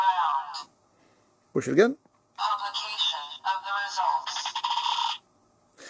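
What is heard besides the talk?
Kamen Rider Geats DX Spider Phone toy Desire Grand Prix button sound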